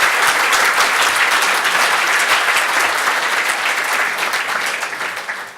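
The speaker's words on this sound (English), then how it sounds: "while you're in the clapping mood" An audience at a mental health conference claps loudly and steadily, a dense even applause that begins to thin near the end.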